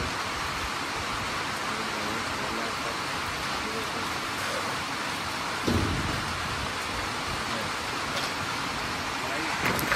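Heavy rain pours steadily in a dense hiss in Rishikesh, with a low rumble of thunder rolling in partway through.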